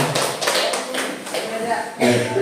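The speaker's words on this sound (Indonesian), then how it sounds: "Tepuk tangan untuk kita semua." A group of people clapping together at an indoor school or training session, a broadband patter of claps with voices talking over and around it.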